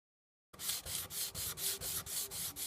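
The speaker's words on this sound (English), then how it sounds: "Gotta sand all the finish off, so this is going to take a while" Sandpaper rubbing the old finish off wooden pieces, a steady back-and-forth rasp in regular strokes starting after a brief silence, close and fairly loud.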